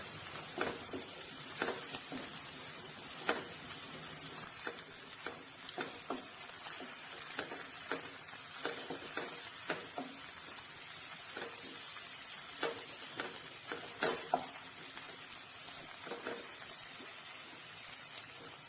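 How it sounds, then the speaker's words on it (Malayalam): Onion, green chilli, garlic and ginger sauté in a pan for a Kerala-style egg roast, with a steady soft sizzle broken by frequent light scraping and stirring taps. "ഇനി ഇത് നന്നായിട്ടൊന്ന് വഴറ്റിയെടുക്കാം"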